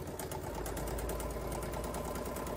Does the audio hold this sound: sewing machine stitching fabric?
yes